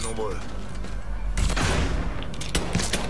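Gunfire in the PS4 video game Mafia 3: a loud burst of shots at about the midpoint and another a second later, over steady game background noise.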